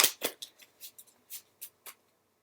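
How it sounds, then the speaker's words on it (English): Tarot cards being shuffled by hand, a series of about nine short, crisp riffling bursts spaced irregularly and heard up close with no talk. "shuffle these a little more."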